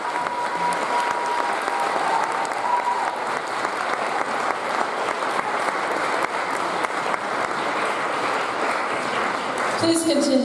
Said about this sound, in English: Please continue the applause